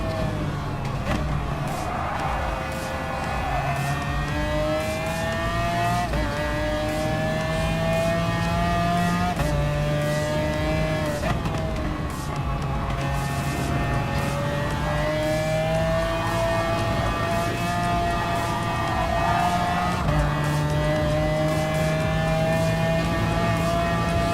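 A race car engine at Lago Maggiore in Gran Turismo Sport, droning steadily and loudly with repeated rising revs and gear changes as the car laps the circuit, no voices over it.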